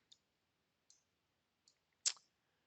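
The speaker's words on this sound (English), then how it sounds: "we're just going to go ahead and click OK on this" Computer mouse clicking in QuickBooks, three light, evenly spaced clicks followed by a sharper, louder one, close and isolated in a quiet room.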